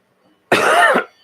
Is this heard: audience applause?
no